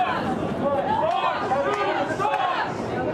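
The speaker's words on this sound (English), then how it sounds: "And they're actually chanting, "Fox News sucks. Fox News sucks."" Boisterous protest crowd in Boulder chanting together, a dense continuous roar of massed voices with rhythmic rises, heard from a short distance and sustained throughout.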